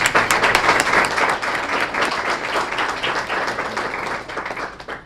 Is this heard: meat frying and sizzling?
no